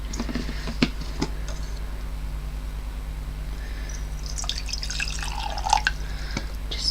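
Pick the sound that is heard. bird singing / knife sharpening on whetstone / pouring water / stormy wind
pouring water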